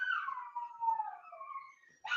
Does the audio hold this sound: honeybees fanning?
no